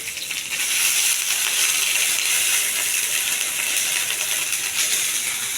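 Curry leaves and ginger-garlic paste sizzle in hot oil for an okra curry, a steady, loud, bright frying hiss with faint crackles that holds evenly throughout.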